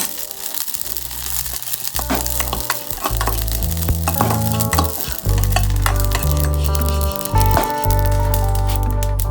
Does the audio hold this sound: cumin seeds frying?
yes